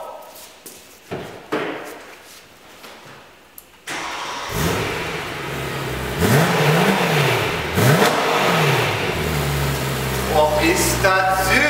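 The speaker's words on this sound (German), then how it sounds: "M3 mit Klappenanlage geht natürlich auch." A BMW M3 fitted with a valve-controlled exhaust starts up and revs repeatedly, loud and close, with rising and falling engine swells over a steady rumble; a few brief clicks and knocks come before it.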